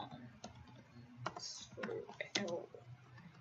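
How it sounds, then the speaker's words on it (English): Typing on a computer keyboard while filling in a driver's application form, a few quiet, close, irregular key clicks and taps over a faint background. "So technically you're going to type in here"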